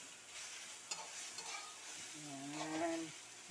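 Vegetables for vegetable lumpia stirred in a sizzling frying pan, steady close frying hiss with scraping stirs and a brief whistle-like tone near the end, no talk.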